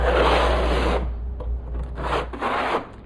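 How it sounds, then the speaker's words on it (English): A trowel scraping thinset mortar firmly into a shower substrate, close gritty rubbing strokes, one long pass then several shorter ones. "We've burnt our mortar into the substrate."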